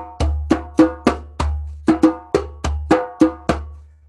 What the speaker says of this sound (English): And you've seen this drum, it's called a djembe.